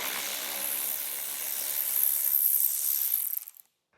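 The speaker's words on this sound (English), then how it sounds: "with the 10mm socket, we'll get that removed." A 10mm socket wrench ratchets steadily on a bolt holding the rear fascia under a taillight, a close, continuous clicking that runs for about three seconds and then stops abruptly.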